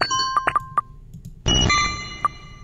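Caterpie's cry from a Pokémon video game: several short beeping pings, a pause, then a sudden grainy chiptune chirp that sustains with a thin metallic tone and a final blip.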